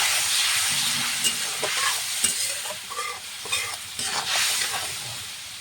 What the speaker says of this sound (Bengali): মশলাটা ভালো করে কষানো হচ্ছে